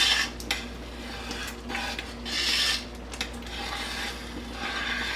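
Christmas jam bubbling in a tall pot on a glass stove top, stirred with a long spoon, heard as repeated close scraping and rubbing strokes in a steady rhythm over a low continuous hum.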